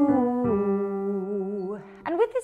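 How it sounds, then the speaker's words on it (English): A single voice sings a smooth, sustained "hoo" as a vocal warm-up, stepping between pitches with a clear tone and ending on a short rising slide. "just going to be a nice, easy hoo sound"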